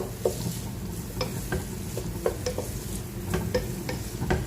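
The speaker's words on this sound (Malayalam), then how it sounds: "ഇതിലേക്ക് നമുക്ക് നേരത്തെ തണുക്കാൻ മാറ്റി വെച്ച റൈസ് ചേർത്ത് കൊടുക്കാം." Cooked rice stir-fried and mixed with chilli sauce in a pan for chicken fried rice: a soft continuous sizzle broken by repeated spatula scrapes and taps at an uneven rhythm, fairly quiet and without talk.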